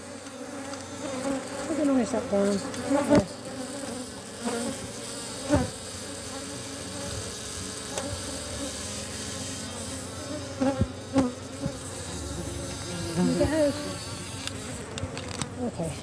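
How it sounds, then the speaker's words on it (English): A bee trapped between a camera and its stand near a beehive buzzes loudly and steadily close to the microphone, its drone rising and falling, with a few sharp knocks and brief spoken words. "There's a bee caught in my camera."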